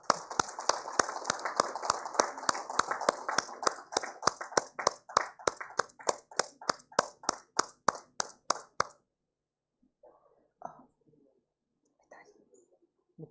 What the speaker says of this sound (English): Please give a big round of applause to the Movement for Scavenger Community.